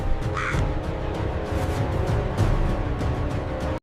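A crow caws a few times over a continuous rumbling, busy background, the calls fairly distinct and not far off, with no voices.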